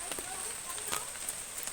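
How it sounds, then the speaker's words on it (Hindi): Heavy rain falls on a mountain village, a steady, dense hiss with scattered louder drips and patters at moderate distance. "रात से बारिश हो रही है।"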